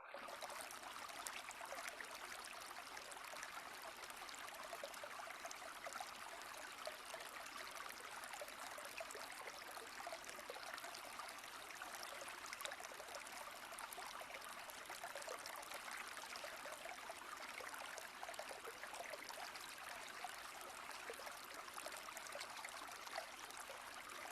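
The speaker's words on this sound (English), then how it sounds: "Let the sounds of the water breaking over the rocks take you to a" A water stream breaks over rocks in a steady, unbroken rush and trickle, heard alone at a moderate, even level from start to finish.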